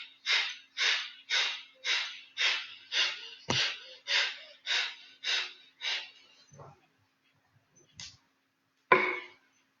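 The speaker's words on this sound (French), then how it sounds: "Et on fait les 21 respirations diaphragmatiques." Series of ten evenly spaced, forceful breaths for diaphragmatic breathing, each a short airy whoosh, followed by a few fainter breaths and one final sharp exhale, close and alone with no talk.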